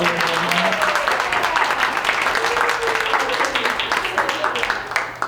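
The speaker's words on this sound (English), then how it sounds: "Quick round of applause for Witty Youngman, a little teacher." Steady audience clapping fills the room at full strength, tapering slightly toward the end.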